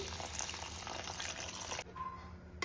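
Hot water poured into a pot of amruta bhanda curry, a broad steady splashing rush that runs continuously, then cuts off abruptly near the end, leaving a quieter bubbling tail.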